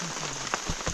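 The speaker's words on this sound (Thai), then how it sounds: "ตื่นมากับฝนตก" Rain falls steadily in a dense, even hiss while a family stays in a house overnight, close and continuous with no voices.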